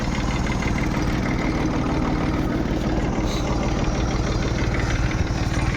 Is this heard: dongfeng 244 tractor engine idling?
yes